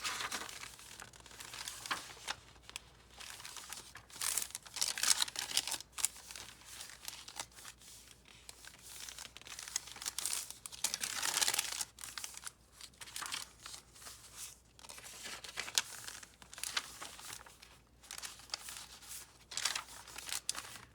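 Coffee-dyed paper crinkles and rustles nearby in repeated soft bursts as it is handled and turned inside a boho junk journal, with no talking.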